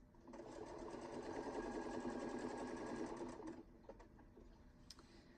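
A domestic sewing machine stitches fabric in a steady, even mechanical whir for about three seconds, then stops, leaving quieter handling clicks and light rustling close by.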